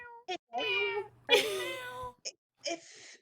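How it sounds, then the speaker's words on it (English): A cat meows several times in short, clear calls, close and fairly loud, with a person speaking around the meows. "Hi, kitty. Oh my gosh. Yes, Kitty is back"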